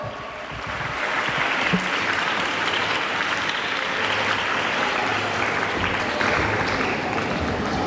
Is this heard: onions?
no